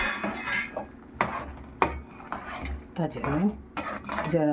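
Mango pieces tumble into a cooking pot of chicken, giving several sharp clatters and clinks of metal utensils against the pot, with a voice talking between the knocks.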